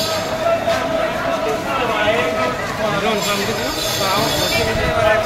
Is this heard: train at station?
yes